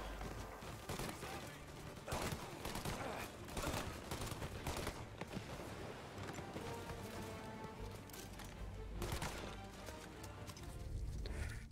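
Rapid gunfire from a shootout in Mafia: Definitive Edition, dense bursts of shots cracking over a busy game mix, loud and continuous throughout with a few sharper volleys standing out.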